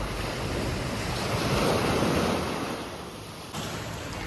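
Sea waves wash steadily onto a beach in warm October weather at Beldibi, with a continuous roar of surf and strong wind buffeting the microphone, swelling midway and easing near the end.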